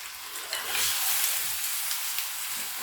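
Washed chicken pieces dropped into a pan and stirred, setting off a loud, close, continuous sizzle of hot oil with scraping stirs and no voices.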